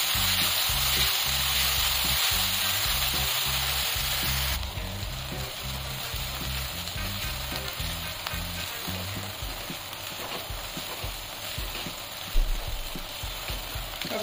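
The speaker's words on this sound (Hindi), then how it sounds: "खूब भून के ब्राउन कर लेंगे बिल्कुल" Onions frying in a pan until brown, a dense continuous sizzle with a low rhythmic patter of stirring underneath. It drops slightly in loudness partway through and has a short clatter near the end.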